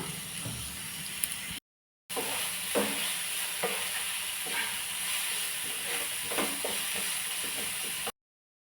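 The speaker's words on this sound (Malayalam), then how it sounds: "സവോളയൊക്കെ ജസ്റ്റ് ഒരു ഗോൾഡൻ നിറം ആവുന്നത് വരെ നമുക്ക് നല്ലോണം വഴറ്റാം" Sliced onions sautéing in a pan toward golden, a steady moderate sizzle with soft scrapes of stirring, cut by a short silent gap near the start and ending abruptly.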